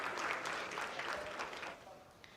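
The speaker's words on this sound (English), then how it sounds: "they're clapping something" Applause breaks out in a room during a live broadcast of a lunar lander's rough braking phase, a steady wash of clapping lasting a couple of seconds and fading slightly toward the end, with talk mixed in.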